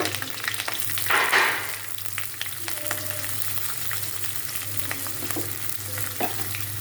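Onion and chili frying in hot oil, a steady close sizzle with a louder burst early as they hit the pan, then a settling crackle with light stirring scrapes and no voices.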